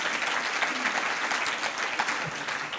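A round of applause fills an evening civic forum audience on education, dense continuous clapping from many hands at close range, steady and unbroken throughout with no voices over it.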